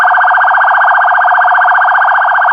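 A siren wails loudly and continuously in a fast warbling pattern, sounded with vehicle horns during a moment of memorial silence for the January 20 martyrs in Aghstafa, Azerbaijan.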